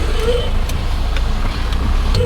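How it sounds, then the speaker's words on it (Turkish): Road traffic rolls through an industrial area, a dense steady rumble of cars and trucks passing close by, loud and continuous with occasional clanks, while a voice talks faintly beneath it. "Ama hala Sanayi'de trafik var abi."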